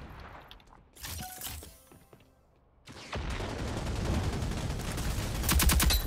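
Shotgun fire in Rogue Company, with a few sharp blasts in the first half, then a sustained roar of overlapping gunfire that ends in a closely spaced, loud volley of shots.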